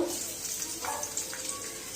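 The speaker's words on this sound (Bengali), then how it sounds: "কড়াইতে আমি তেল দিয়ে দিয়েছি, কড়াই বসিয়ে দিয়েছি। এবার রসুন কুচি দিয়ে দেবো" Steady sizzling of chopped garlic frying in hot oil in a wok, soft crackles spread evenly across the short clip with no voices.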